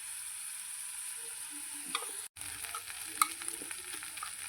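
Onion and ginger-garlic paste fry in a pan for an egg masala with a quiet, steady hiss, a brief cut partway through, then a couple of light stirring taps.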